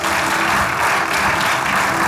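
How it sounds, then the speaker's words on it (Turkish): A studio audience at a comedy show's mock family awards ceremony claps loudly and continuously for a grandmother winner, dense applause filling the whole moment. "Alkışlıyoruz kendisini."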